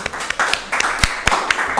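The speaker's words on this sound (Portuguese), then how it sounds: "Salva de palmas para o nosso esforço" Sparse, uneven hand claps from a small class group, a handful of distinct claps scattered over a couple of seconds rather than a full ovation.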